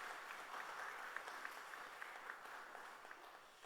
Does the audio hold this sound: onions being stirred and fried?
no